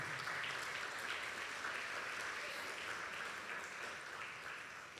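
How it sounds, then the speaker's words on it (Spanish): Church congregation applauding during a Spanish-language sermon, a steady wash of many hands clapping that holds for several seconds and then begins to taper, with a few voices mixed in. "Demos aplauso a nuestro Dios"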